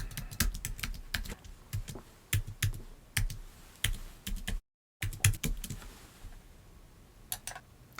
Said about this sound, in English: you'll be asked to type in your username and password